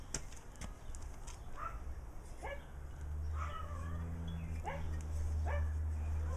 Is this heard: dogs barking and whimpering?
yes